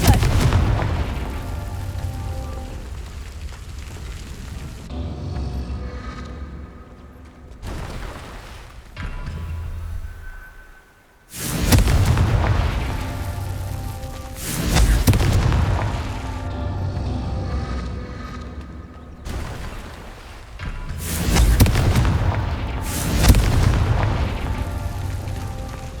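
Repeated Confringo spell explosions in the video game Hogwarts Legacy, deep booming blasts that burst loudly at intervals and sometimes run together, with no talk over them.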